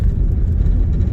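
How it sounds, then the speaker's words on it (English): A 25-year-old Volvo station wagon on a washboard dirt road, heard from inside as a loud continuous low rumble with a dense rattling suspension texture, steady throughout with no talking. "You can hear that suspension a little bit on the washboards on these dirt roads"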